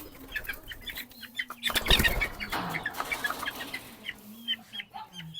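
Young chicks, about one to one and a half months old, chirp and peep on and off, with a quick burst of wing flapping near the middle and some clucking. Nobody talks.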